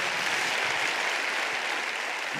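Dense, steady applause from a church congregation, a continuous wash of clapping with no voices over it, fairly loud throughout.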